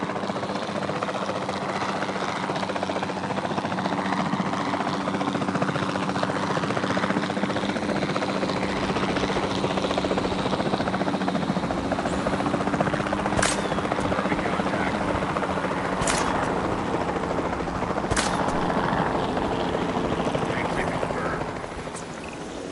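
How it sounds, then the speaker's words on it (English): A capture team helicopter flies overhead with a loud, steady rotor drone and engine whine that holds for the whole stretch, with a few sharp clicks, then eases slightly at the very end. "the sensible thing is to take a capture team helicopter"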